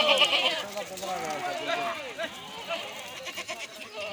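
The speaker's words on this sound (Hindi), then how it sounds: "300 बकरा है। ये देखो" Khasi goats bleat from a large village herd, with several overlapping calls up close amid a voice talking over the animals.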